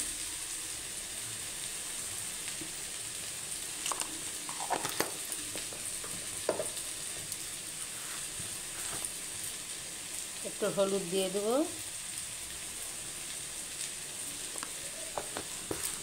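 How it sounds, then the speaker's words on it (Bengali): Potatoes frying in a pan with a soft, steady sizzle and occasional stirring scrapes, while someone talks over it. "দিয়ে আলুটা ভাজা ভাজা করে নেবো"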